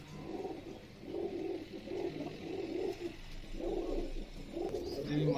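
Pigeon in a breeding setup cooing in a soft, rhythmic series of low throaty coos repeating about once a second, close by and fairly quiet.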